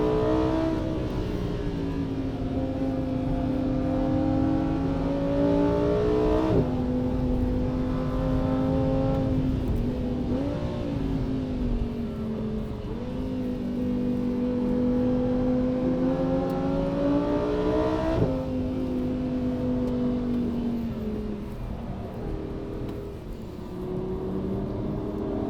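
A Lamborghini Huracan EVO engine revs hard on the Nordschleife, climbing through the gears with repeated rising pitch sweeps and brief dips at each shift, loud and close from inside the car.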